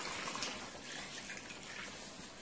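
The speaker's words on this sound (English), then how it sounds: "And I'm adding about 4 cups of water." Hot water poured steadily into a pot of Jamaican oxtail stew, a soft continuous splashing rush that stays faint and even throughout with no talk.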